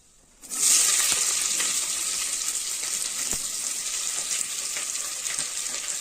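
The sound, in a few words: onions sizzling as they fry in oil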